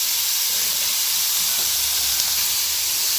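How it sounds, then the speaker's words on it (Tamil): Carrot and potato pieces sauté in a pan, giving a steady, even hiss of sizzling oil that holds at a constant level for a few seconds with no voices. "இப்போ இந்த காயை எடுத்து நல்லா வதக்கி வச்சுக்கோம்."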